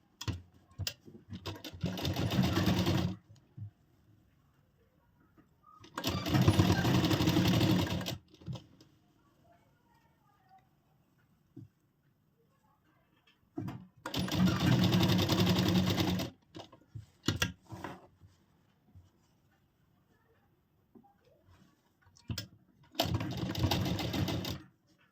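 A sewing machine stitches a princess-cut deep-neck blouse in four separate bursts of close, steady whirring, with quiet gaps between each run.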